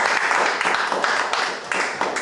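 Congregation clapping together during a church worship service, a dense, steady wash of hand claps filling the room with brief rhythmic swells.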